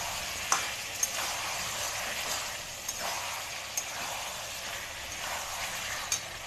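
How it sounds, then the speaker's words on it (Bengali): Chicken curry, a Bengali chicken jhol, is sautéed in oil in a pan, giving a continuous soft sizzle with occasional light clinks of stirring, no talk. "যতক্ষণ না তেল ছাড়ছে ততক্ষণ কষাবো।"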